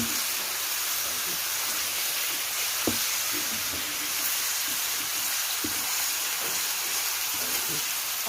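Shrimp sizzle and hiss steadily in a hot pan as they are stir-fried, a continuous bright frying noise with occasional soft knocks of the utensil.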